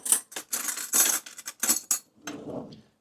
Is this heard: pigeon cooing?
no